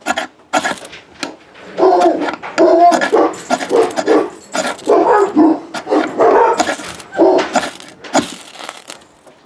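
Several dogs bark loudly and repeatedly nearby, overlapping bursts with yips and whimpers continuing throughout, outdoors during a knife batoning session.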